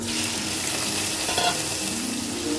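Shrimp and garlic frying in a pan, a continuous loud sizzle with occasional stirring scrapes, no talking.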